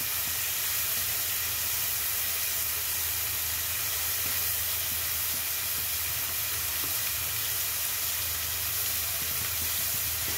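Garlic and onion frying with prawns in a pan make a loud, dense, continuous hissing sizzle that stays steady and close throughout, with no talk heard.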